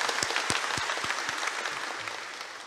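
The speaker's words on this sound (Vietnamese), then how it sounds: "Nên xin có tràng pháo tay để cảm ơn và chúc mừng." Audience applause at a Catholic Mass, following a homily by a bishop. It is a dense spread of claps at moderate level, with a few sharper near claps early on, and it thins slightly toward the end.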